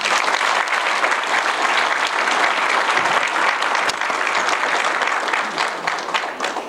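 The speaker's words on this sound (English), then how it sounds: "another round of applause for Mr. Fishman." At a law enforcement appreciation breakfast, a room full of people gives a loud, sustained round of applause, a thick continuous clatter that tapers slightly near the end.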